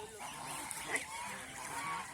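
Ducks on a duck farm give faint, scattered honking calls at a distance over steady background noise, with no clear voices.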